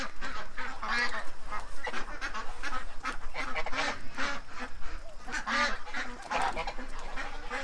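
A large flock of ducks calls all at once at feeding time, a dense, continuous chorus of honks and quacks that is loud and close, with wind in the background.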